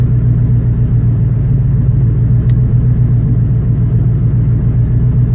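A car engine, logged by a Raspberry Pi datalogger, holds a steady loud low rumble close by, moving from about 850 rpm idle toward roughly 3000 rpm, with no speech over it.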